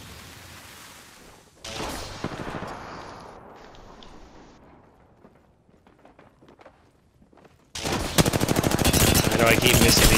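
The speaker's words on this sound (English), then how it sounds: "Shots." Gunfire in a battle-royale shooter game: scattered sharp shots and footstep-like clatter at moderate level, then a sudden loud burst of rapid automatic fire near the end.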